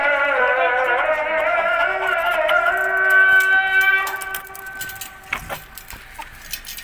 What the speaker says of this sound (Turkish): Burada da tavuklarımız var.